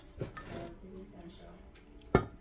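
Salsa and green enchilada sauce mixed in a bowl, with soft scraping and stirring ending in a sharp utensil clink against the dish, close by and fairly quiet, with a faint voice partly underneath.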